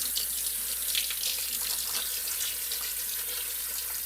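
Cold water runs steadily from a kitchen tap into a sink, a continuous hissing splash that holds even and close for the whole stretch with no voices.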